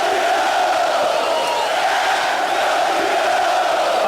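An arena crowd at a UFC 307 event roars and cheers in a continuous, dense wall of voices that stays loud for the whole stretch, with no single speaker standing out.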